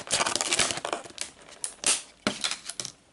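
Plastic wrapping being torn off a Pokémon XY8 Raichu card deck: close, loud crinkling and ripping in irregular bursts with brief pauses.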